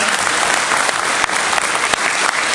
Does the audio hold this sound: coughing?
no